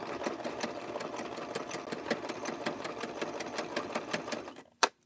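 A sewing machine stitches a wave pattern into a rope bowl with a rapid, steady mechanical chatter that runs close and continuous, then stops abruptly with a single clunk.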